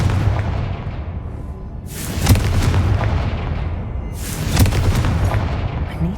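Confringo fire spell blasts in the game Hogwarts Legacy, two loud booming explosions a couple of seconds apart, each with a sharp crack and a rumbling tail over a low droning background.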